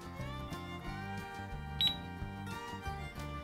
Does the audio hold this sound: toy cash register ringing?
yes